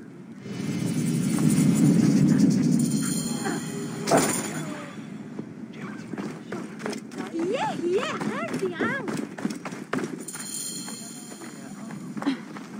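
Hooves of horses galloping in Assassin's Creed Origins, a rapid, fairly close clatter that builds in the second half, mixed with game sounds while characters talk.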